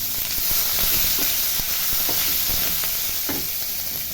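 Ginger garlic paste and spring onion bases sizzle steadily in hot oil, with a constant bright hiss and occasional soft clicks and scrapes of stirring.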